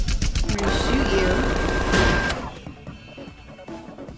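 Rapid automatic gunfire from the video game Tales from the Borderlands, a loud dense burst of shots lasting a couple of seconds before fading into quieter game sounds.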